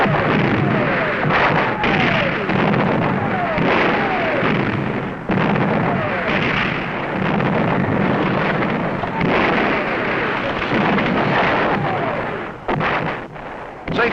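Continuous heavy, roaring blasts and rumbling as gunpowder and gasoline charges blow up railway rails and signal towers on a 1964 film set, loud and sustained with repeated booming surges.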